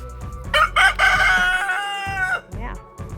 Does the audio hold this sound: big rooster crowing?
yes